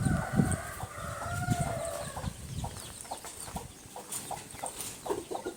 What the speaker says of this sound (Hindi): ये देखो मुर्गियाँ है ना बाहर निकालो करी, पुकार ले रही मुर्गियाँ।